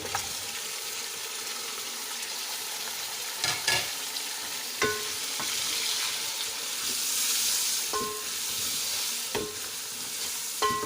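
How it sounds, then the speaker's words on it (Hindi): Beef fries in a pot for Sindhi biryani, a soft, steady sizzle punctuated by several distinct scrapes and knocks of a stirring spoon, with no voices. "अब मैं इसी में बीफ डाल रही हूँ।"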